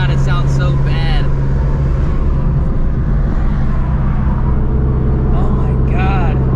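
Procharged Shelby GT350 with open headers, its engine a loud, steady, rough drone throughout with a couple of brief rising revs, while someone talks over it.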